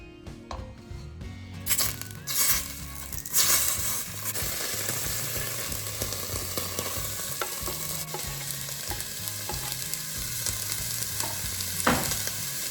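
Butter sizzles in a hot pan while a keto kale breakfast cooks, a steady close frying hiss with utensil scrapes and clinks against the pan throughout and a few sharper knocks early on.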